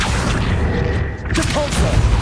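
A booming magical spell effect, the Accio charm in the video game Hogwarts Legacy: a dense, rumbling whoosh with a short dip midway before surging again, layered with game sound.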